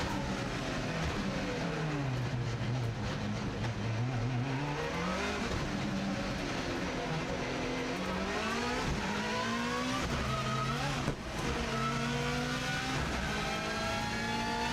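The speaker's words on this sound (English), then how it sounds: "we're now accelerating for the flying start" Subaru Impreza rally car on a circuit lap, its engine revving hard and climbing through the gears as it accelerates from a tight hairpin toward a flying start, loud and continuous from onboard.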